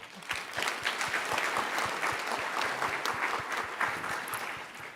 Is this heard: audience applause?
yes